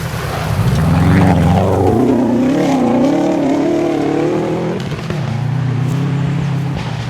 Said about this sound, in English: Got some pretty aggressive anti-lag there.